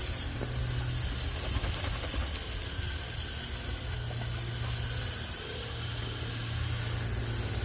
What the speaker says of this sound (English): And we're all spraying.